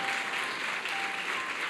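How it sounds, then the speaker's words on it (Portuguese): A church congregation breaks into steady, dense applause during a service, the clapping loud and continuous throughout with no voices standing out. "Vamos aplaudir a vida deles?"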